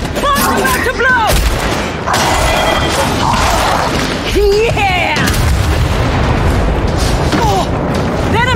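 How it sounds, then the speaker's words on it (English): Heavy booming explosions and crashing blasts from bombs going off in a video game, dense and loud throughout, layered with game effects and voices talking over the action. "Bombs about to blow!"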